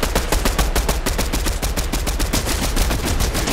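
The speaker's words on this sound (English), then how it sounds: "they are shooting us now" Rapid bursts of automatic gunfire from a multiplayer shooter game fire at the player, loud and close, dense repeated cracks with no talk.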